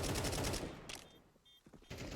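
Counter-Strike 2 gunfire bursts out in rapid automatic rattles during a tournament replay, dense and loud at first, then fading into scattered shots and short sharp reports.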